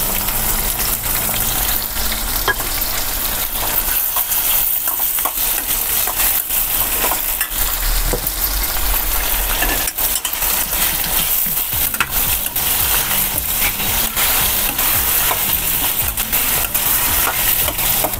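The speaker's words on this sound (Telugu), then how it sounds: "మెహితీ చామన్ చెప్పాం కదండి, దీంట్లో సగం ఇప్పుడు ఫ్రైలో వేసేసుకోవాలండి." Methi chaman leaves and cashews frying in hot oil in a home kitchen, a loud continuous sizzle with stirring scrapes and bubbling running steadily throughout, close up and without speech.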